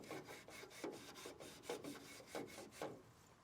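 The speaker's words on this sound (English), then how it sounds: "We can use a lint-free wipe to clean the top of the grate." Close, quiet rubbing strokes as a lint-free wipe cleans the top of an ink sump grate on a Ri 1000 direct-to-garment printer, each swipe short and scratchy in an uneven rhythm.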